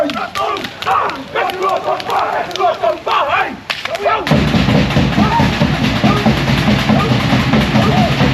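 Sharp rhythmic slaps ring out during a luau performance in Hawaii, a burst of loud smacking over crowd noise and voices, turning into dense clapping and cheering in the second half.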